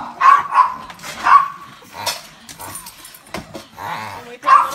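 Several Pekingese dogs bark, yip and whimper in quick, excited bursts close by at feeding time, with a person talking in between.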